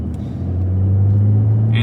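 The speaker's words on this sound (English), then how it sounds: "This being obviously the twin turbo 6-cylinder from Porsche" Porsche 911 Turbo S twin-turbo 3.8-liter flat-six running at a steady low drone, close and fairly loud, with a brief higher hiss near the end.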